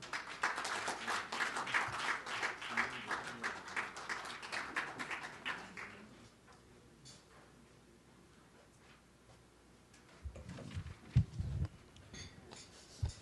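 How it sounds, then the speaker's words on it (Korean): Applause at a construction-industry breakfast forum, a brief round of clapping from a seated audience that fades after about six seconds, followed by quiet room noise and low thumps. "큰 박수로 맞아주시기 바랍니다"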